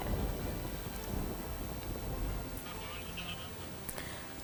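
Heavy monsoon rain pours steadily in Dhoraji, Rajkot, Gujarat, with a deep rumble of thunder underneath, dense and continuous, the roar easing slightly toward the end.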